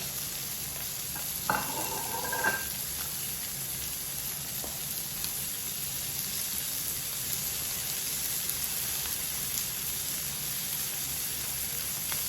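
Capers are scooped into a sizzling pan for rainbow trout piccata, producing a steady, close frying hiss with a brief clink of a utensil early on and light stirring throughout.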